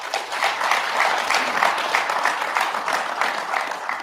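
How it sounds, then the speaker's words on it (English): An audience at a Stanford India Dialogue event applauds, a dense, sustained clapping that stays fairly loud and even from start to finish. "I'm afraid if you keep getting applause forever, I might not get through all my questions"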